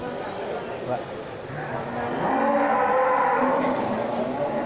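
Bali cattle (banteng) kept for slaughter at a local livestock market, lowing amid a steady crowd murmur that swells louder in the second half, with people talking nearby.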